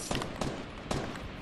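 Gunfire rattles in Fortnite, a few sharp shots spaced irregularly at middle distance, moderately loud over a steady game ambience with no talk.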